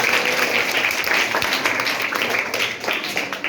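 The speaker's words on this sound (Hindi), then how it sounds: "चलो ताली बजाओ उनके लिए।" Students in a classroom clap together, a dense, steady burst of applause lasting a few seconds.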